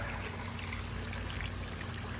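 Water from a large pond pump moving about 8,100 gallons pours and trickles in a steady, even stream, faint and continuous, with no voices over it.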